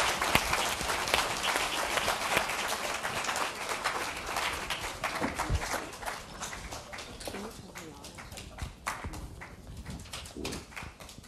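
An audience at a business conference plenary claps to welcome panel speakers, a dense sustained applause that gradually thins out toward the end.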